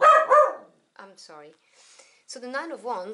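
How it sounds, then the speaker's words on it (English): A few dog barks close by in a home, in short bursts at the start and again near the end, with someone speaking between and over them. "sorry about the dogs"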